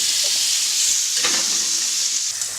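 Bacon fries in a pan with a loud, constant bright sizzle and crackle, while faint clinks and stirring movements come through under the hiss; no one speaks.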